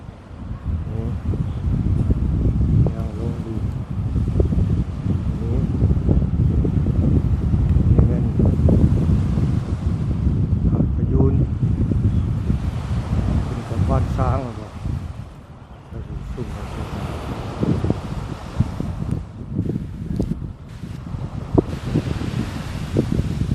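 Wind gusts steadily across Phayun beach in Rayong, Thailand, rumbling and buffeting the microphone with a brief lull partway through, while someone talks over it.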